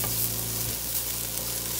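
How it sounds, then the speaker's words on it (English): Broccoli stir frying in a hot pan, a steady continuous sizzle with light stirring, close and fairly loud, no voices. "take a little bit of that bite off of the broccoli by stir frying our broccoli right here"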